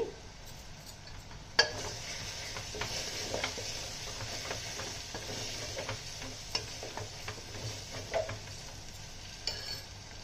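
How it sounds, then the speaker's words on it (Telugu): Turmeric and chili masala powder are stirred in a frying pan with a faint sizzle, and a spoon scrapes and taps softly and irregularly against the pan. No one speaks. "1/2 టేబుల్ స్పూన్ దాకా పసుపు, 2 టేబుల్ స్పూన్ కారం, మసాలా కారం వేసేసి బాగా కలుపుకుందామండి"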